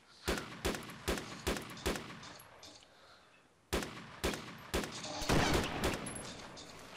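Gunfire in the military shooter Arma 2, a rapid run of loud sharp shots, then a short pause and another quick volley with a rough, crackling burst near the end.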